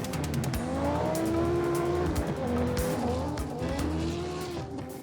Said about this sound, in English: This crazy acceleration from the car and the all-wheel, especially on loose ground, that's just unbelievable